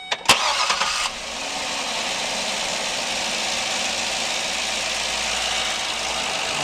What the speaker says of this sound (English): I'm going to show you the operation of the engine